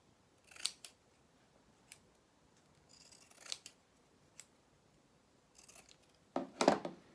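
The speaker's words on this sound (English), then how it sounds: "all I do is use my pinking shears, which are the ones with the triangular blades on them. I just cut around it." Pinking shears with triangular blades snip around fabric in a few separate crisp cutting bursts, close and quiet, the final cut loudest.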